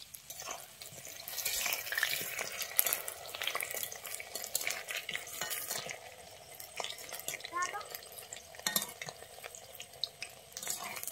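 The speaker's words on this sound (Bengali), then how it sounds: "খুন্তি দিয়ে উল্টে নিচ্ছি।" Chicken sizzles in oil while a spatula scrapes and flips it, with irregular clinks and crackles over a continuous frying hiss.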